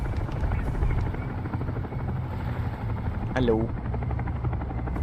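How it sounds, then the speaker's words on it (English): A helicopter in War Thunder drones loudly and steadily with a constant rotor and engine hum, while a voice speaks briefly over it. "Helicopter, helicopter."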